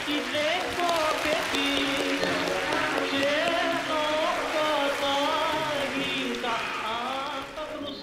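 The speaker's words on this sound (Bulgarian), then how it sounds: "Аплодисменти за Мишева и Рашева!" An audience applauds for a pair of comedians at a comedy sketch show, a steady wash of clapping under loud shouting and excited voices.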